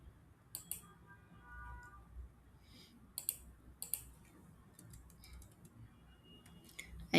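Computer mouse clicks while working in schematic design software, heard as a few sharp, quiet click pairs spread through the clip over a low room hum, with no talking.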